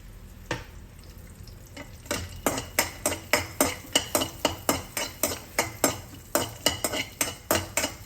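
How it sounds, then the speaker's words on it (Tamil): Cashews fry in ghee in a pan while a spoon stirs them, giving a quiet sizzle under rapid, regular metallic scraping and clinking strokes, roughly three per second, close by with no talking. "அதில் நெய் இருக்குது கொஞ்சம், அதனால் அதிலே வறுத்துடலாம்."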